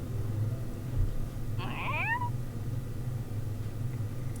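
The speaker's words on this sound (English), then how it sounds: "Makina's pillow cat has woken and is staring" A single short cat meow rises and falls over a steady low background hum, from a small pillow cat waking up in the visual novel game The Fruit of Grisaia.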